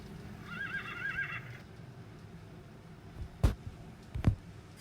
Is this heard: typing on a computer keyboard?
no